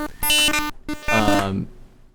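Glitchy databent sound from audio imported as GSM: two harsh, buzzy, stuttering bursts with a short gap between them, the second swelling and trailing off, loud and with no talking.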